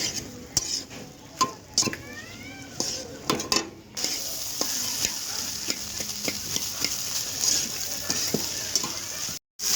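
Chickpeas cooking in a pan with dried red chillies, loud stirring scrapes and clinks of a spoon against the pot over a continuous sizzle, with faint background sounds.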